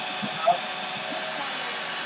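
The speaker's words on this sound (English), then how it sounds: "I'll hit that with the vacuum in the front of it." Steady, loud broadband whoosh of a vacuum running alongside a Phlatlab cutting machine, continuous throughout with a brief small bump near the start.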